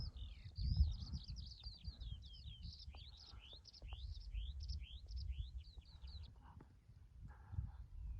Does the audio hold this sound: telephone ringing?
no